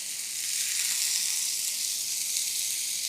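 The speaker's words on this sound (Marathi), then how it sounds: "आता या कांद्यामध्ये आपण तेल टाकून घेतोय" Onions sizzle in a little oil in a pan, a close, steady bright hiss that holds evenly throughout with no talking.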